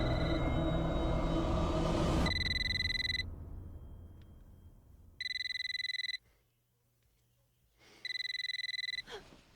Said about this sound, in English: it's just a really old phone